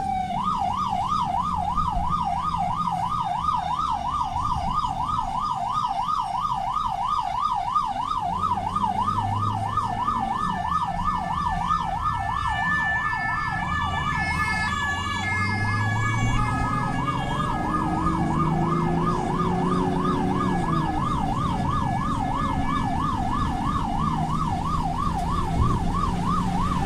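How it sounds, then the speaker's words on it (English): An ambulance siren in Paris wails continuously in a fast up-and-down pattern, loud and close, with traffic rumbling underneath. "This is the sound of the ambulance."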